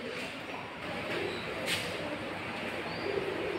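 Pigeons coo softly at a cattle farm, a low murmuring call over a steady background hum, with faint chirps and a brief sharper bird note mixed in.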